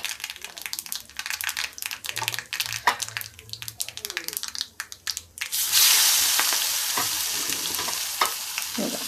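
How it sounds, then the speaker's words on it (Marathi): Stuffed brinjals dropped into hot oil with asafoetida burst into a loud, steady sizzle partway through, after earlier clattering, stirring and spoken voices in a home kitchen. "तेल चांगलं गरम झालेलं आहे आणि आता ह्याच्यामध्ये सोडायचं आहे आपल्याला वांग"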